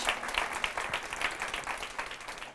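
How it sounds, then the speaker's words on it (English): A small meetup audience gives a final round of applause for Rangle, a fairly faint, sparse patter of individual claps heard from a distance. "One last round of applause for Rangle"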